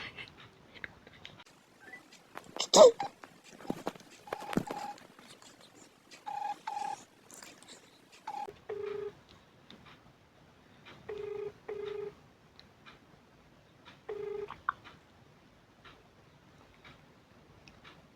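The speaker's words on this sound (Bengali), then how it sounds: "চলো ওই নাম্বারটাই ডায়াল করি" A phone number is dialed in a series of short beeping tone bursts, with scattered clicks and handling noise around them, close and moderately loud, with no ringing tone clearly evident.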